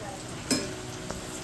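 Potato bhaji deep-frying in hot oil during monsoon rain, a steady close sizzling hiss with a brief stirring clink partway through, no talk.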